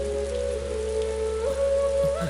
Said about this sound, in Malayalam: നല്ല മഴ അല്ലേ?